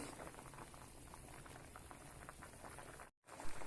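Sweet chutney simmers and bubbles on the stove, a dense, steady patter of boiling close by that breaks off briefly near the end and then resumes.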